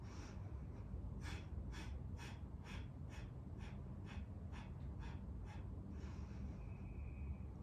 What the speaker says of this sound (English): The same breath we did in the beginning, the breath of fire.